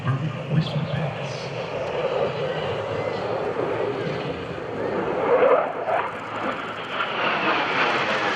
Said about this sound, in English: let you hear just how quiet this airplane can be